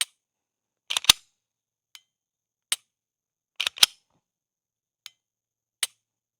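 A Bear Creek Arsenal Grizzly pistol trigger is dry-fired and reset, giving sharp, isolated clicks in a quiet room, some paired as a break followed quickly by the reset.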